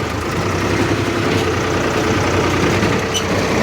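A tractor engine runs steadily in a soft plowed field, giving a loud, close, continuous low rumble with an even throb and no pauses.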